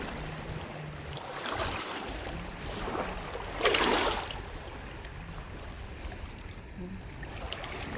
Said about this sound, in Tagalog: Maalon, kaya di kami makapanguha ng shell.